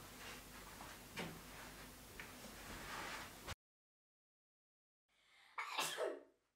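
A single sharp sneeze bursts out after a moment of silence, close and brief, following some faint background rustle and a small cough-like sound.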